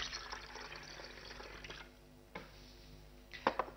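Orange juice poured into a sangrita mix in a kitchen, a faint steady liquid stream for a couple of seconds, then brief splashes and a few small clinks near the end.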